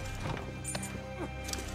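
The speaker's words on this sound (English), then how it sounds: "I have a Turkoman named Keith. This is one of my horses." Turkoman horse hooves in Red Dead Online clip-clopping in a quick, irregular rhythm, faint and close, over low game ambience.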